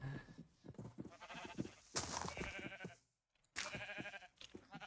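Sheep bleating in a blocky sandbox video game, short wavering bleats repeated in bursts at close range, with a brief silent gap partway through.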